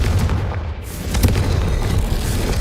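Confringo blasting spell explosions in Hogwarts Legacy, a loud, continuous rumbling boom with heavy low-end roar and brief crackling bursts throughout.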